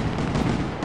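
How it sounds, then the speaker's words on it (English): Fireworks rockets bursting in the video game Fireworks Mania, launched from the bed of a truck: a dense, continuous rumble of overlapping booms and crackles that fills the whole short moment at steady loudness. "Fireworks out of the bed of a truck is the most..."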